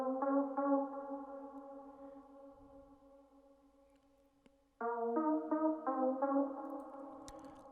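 Synth plugin in FL Studio playing sustained tonal notes with an echoing tail that slowly fades, then a louder new set of stacked chords re-entering with quick repeated attacks, alone and without talking.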